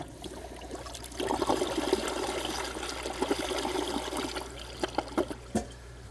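A toilet flushing with its handle held down, water rushing and trickling steadily for several seconds at close range, with no voices.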